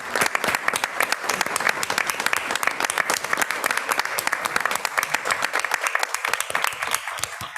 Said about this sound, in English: we're going to stand and give them a round of applause as well